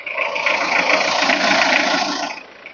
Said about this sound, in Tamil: இன்ஜின் பாத்தீங்கன்னா இப்ப ரன்னிங்ல தான் இருக்குது.